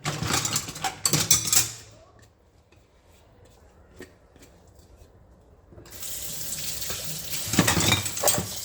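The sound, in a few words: washing dishes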